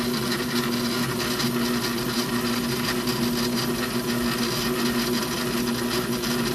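Chocolate grinder working dark chocolate with added sugar, a steady, loud mechanical whir and rumble with a constant hum, continuous and unbroken with no talking.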